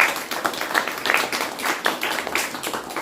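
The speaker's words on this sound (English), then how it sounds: "So we should give a round of applause to all of you." An audience gives a round of applause, the clapping brisk and steady throughout, close and moderately loud, with no speech over it.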